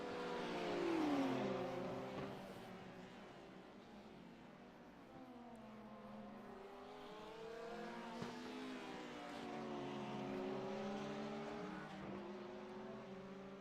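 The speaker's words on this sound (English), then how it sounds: "It never ceases to amaze me just how fast these LMDH cars are." LMDH prototype race cars screaming around a track in a sim racing game, engines rising and falling in pitch through gear changes as several cars pass, steady and sustained.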